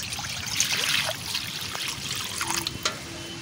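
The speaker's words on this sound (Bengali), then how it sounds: "কড়াইতে গরম জল দিচ্ছি, ওলটা একটু সিদ্ধ হয়ে নেবে" Hot water pours into a wok holding chunks of elephant foot yam, a close, steady trickle and splash that tapers off, with faint clinks near the end.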